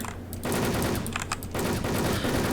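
Loud, rapid automatic gunfire from the online shooter Wolfteam, with dense bursts that fill most of the clip and only a brief pause in between.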